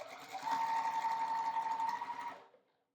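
A sewing machine runs steadily for about two seconds, stitching straight across quilt binding strips, with a continuous whirring hum and no talk before it stops.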